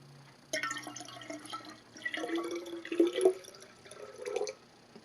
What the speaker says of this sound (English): I'm going to add a little water.